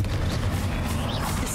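Bombarda and Confringo spells go off in Hogwarts Legacy, a dense rumbling barrage of booming blasts and crackling impacts that runs loud and continuous through the moment.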